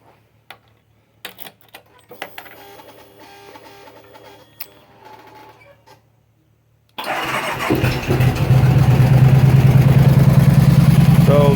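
A 2009 Kawasaki Vulcan 2000cc Classic LT motorcycle engine cranks and fires up after quiet clicks and handling noises, then settles into a loud, steady, deep idle rumble close by.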